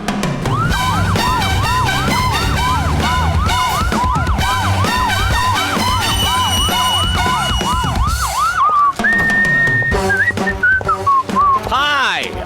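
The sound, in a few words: ambulance siren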